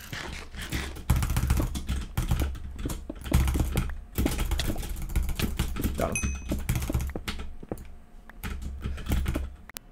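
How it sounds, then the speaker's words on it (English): Rapid computer mouse clicks rattle off in dense, fast bursts during a competitive online game, close and crisp with short pauses between flurries. "all you can hear is me clicking my mouse as fast as humanly possible"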